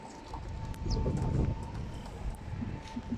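Soft pigeon coos repeat inside a pigeon loft against a steady low rumble of background noise, with a faint constant tone running underneath throughout.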